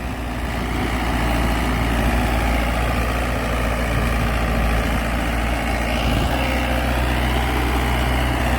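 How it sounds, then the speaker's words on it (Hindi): A Mahindra 475 tractor, PAC 21 model with a heavily worn engine, runs steadily at idle close by, a loud continuous low diesel rumble with no break throughout. "तो भाई यहाँ पे देखो ट्रैक्टर जो है बड़े ही सटीक तरीके से चल रहा है।"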